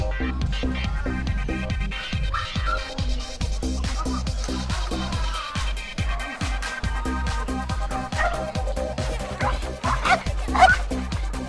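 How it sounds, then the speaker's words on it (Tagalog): Several dogs bark repeatedly in a busy, overlapping rhythm, with scattered clatter and background noise throughout. "Di pansin ang mga nagkakahulang aso ah!"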